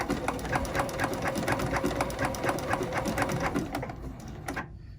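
A sewing machine stitches a quilt binding in a steady, rapid run of needle strokes at close range, slowing and stopping near the end with a brief fade.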